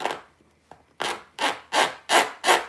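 Primitive snowman craft getting a brisk scrubbing to loosen its fibers: a few faint scratches, then five loud, rhythmic rasping strokes close up, with no voice.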